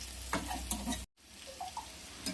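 Banana slices fry in a pan for a simple banana fry, giving a quiet, steady sizzle with a few soft stirring scrapes, briefly cut to silence midway before the frying resumes.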